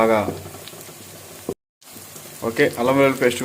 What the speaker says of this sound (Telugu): వెల్లుల్లి పేస్ట్ యాడ్ చేసుకొని బాగా వేయించుకోవాలి పచ్చి వాసన పోయేంత వరకు